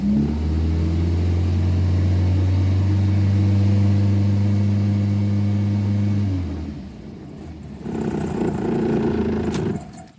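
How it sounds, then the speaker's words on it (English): A 1978–1998 Volkswagen engine revs loudly and close with a steady droning rumble for about six seconds, then drops back before a second shorter rev, with no talking. "We're just gonna rev it a little bit for a few seconds."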